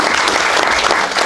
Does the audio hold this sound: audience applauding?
yes